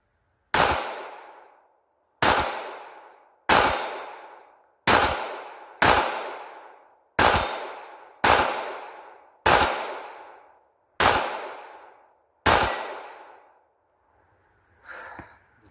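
A small handgun fires at a target outdoors: ten sharp, loud shots at an even pace about every second and a half, each with a brief ringing decay, followed by a faint rustle.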